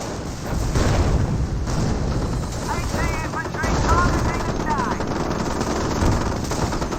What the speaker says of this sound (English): I heard an explosion there. Oh, there was a teller mine there.